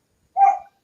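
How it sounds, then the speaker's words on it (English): A neighbour's dog gives a single short bark in the background, heard alone in an otherwise quiet moment. "I apologize if you can hear that dog in the background"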